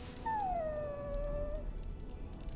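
A dog in the video game Dragon Age: Origins gives a single drawn-out whimper that falls in pitch. It sounds clear and fairly close over a faint ambient game background.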